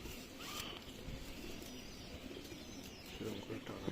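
Teddy pigeons coo faintly in a loft, with soft, low calls and light chirps under a quiet, noisy background, and voices murmur faintly at times.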